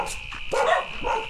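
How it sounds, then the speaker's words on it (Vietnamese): Several dogs barking in a residential neighborhood in Vietnam, sharp barks and yips at mid distance repeating over a second or so, fairly loud against outdoor background noise. "cũng có khá là nhiều chó ở khu này."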